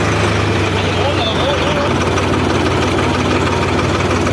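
A heavy tractor engine idles loudly and steadily at close range outside a gurdwara during Hola Mohalla at Anandpur Sahib, a constant low rumble with faint voices underneath.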